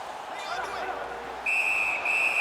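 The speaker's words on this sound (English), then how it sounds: "Puck covered, whistle blown." Referee whistle in the hockey video game NHL 15, a sharp high blast that starts partway through and holds with a brief break, following crowd noise.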